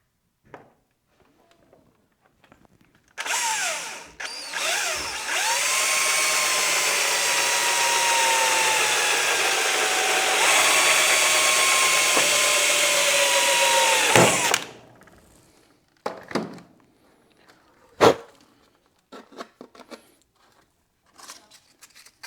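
A drill bit bores a hole in a Honda Ruckus battery box, a steady high whine lasting about ten seconds before stopping, followed by faint clicks and handling noises.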